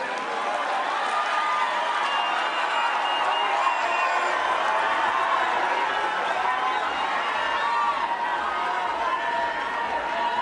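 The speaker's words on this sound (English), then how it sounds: "Another round of applause, please" Large conference audience applauding and cheering after former Prime Minister Raila Odinga's speech at a devolution conference, a steady, dense wash of clapping and whoops at full level throughout, with a voice faintly audible beneath.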